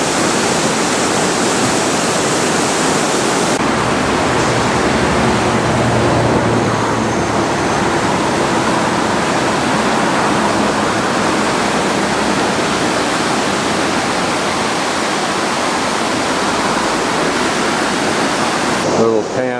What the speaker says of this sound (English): A little pan up the muddy spring-laden waters of this river